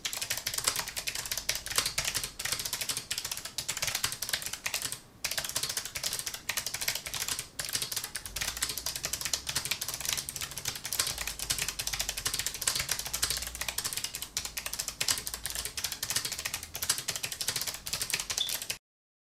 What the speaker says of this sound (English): this video wouldn't be complete without a typing test, so let me give you guys a sample of what they sound like